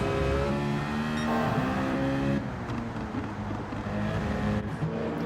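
Race cars in a racing video game lapping a wet Tsukuba circuit, engines droning steadily with harmonic whine, one car's pitch shifting midway as others blend in, loud and continuous with no talk.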